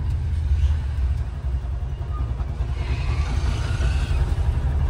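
A three-wheeler loading vehicle swings through a U-turn on a highway, its engine a steady close low rumble that rises slightly in the second half, with no talking over it.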